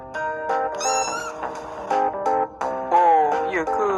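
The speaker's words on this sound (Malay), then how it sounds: "Hai anak kucing." A kitten meows close and loud in a rapid series of high, wavering cries, some drawn out and bending in pitch, with short gaps between them.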